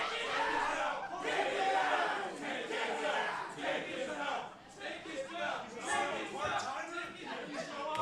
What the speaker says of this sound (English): Well, the crowd chanting, "Take his belt."